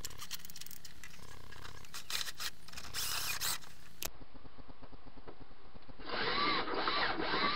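Power drill enlarging a hole in a VW T4 campervan to feed a gas pipe through: steady close whirring and grinding that shifts in tone partway, with rattling and clicks and no voices.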